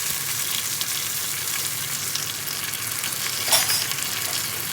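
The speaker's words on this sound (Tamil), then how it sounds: "அதுக்கு பிறகு இந்த கருவேப்பிலை போடுவேன்." Curry leaves dropped into hot oil for rasam crackle and sizzle loudly and continuously at close range, with one sharper spattering burst partway through.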